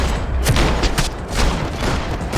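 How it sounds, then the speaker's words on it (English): Gunfire in the Max Payne 3 video game, rapid overlapping shots and booming blasts firing in quick bursts over a continuous loud, rumbling battle din, with no talk. "Gunfire over Hoboken."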